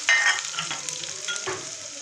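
Chicken, vegetables and meat frying in a pan for chicken fried rice, a loud close sizzle that continues steadily throughout with a few stirring scrapes.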